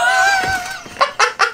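A goose in Untitled Goose Game gives a drawn-out nasal honk, followed by a few quick, sharp honks in succession, loud and close.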